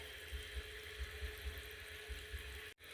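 Water spraying onto a vegetable garden bed with a hose or sprinkler, a steady hiss with low pump-like pulses throughout, close and moderately loud, briefly cutting out near the end.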